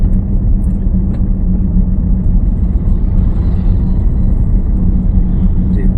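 A car engine runs steadily in second gear during a driving lesson, a continuous low rumble at close range with the clutch held down.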